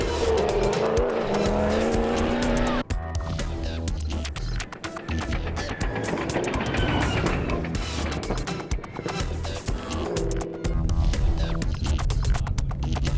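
Redline Motorsport-prepped Nissan Navara rally race car at the Stella 250 2020, its engine roaring loud and continuous with tire squeal and skidding through most of the run, no voices over it.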